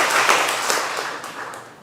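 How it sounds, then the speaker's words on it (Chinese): A church congregation breaks into warm welcoming applause, a dense wash of many hands clapping close and loud, gradually easing off over a couple of seconds. "我们掌声欢迎他加入桃园"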